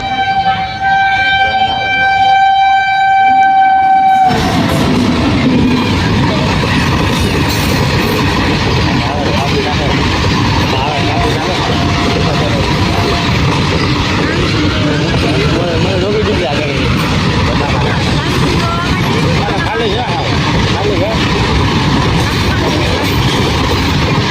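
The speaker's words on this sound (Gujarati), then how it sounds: "જો આવે ટ્રેન" A train rumbles past close by with steady clattering, preceded by a loud horn blast at the start, with voices talking faintly underneath.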